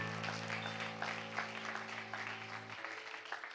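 A church congregation applauding their pastor and his wife: steady, moderately distant clapping from a crowd with a sustained low musical tone underneath that cuts out near the end.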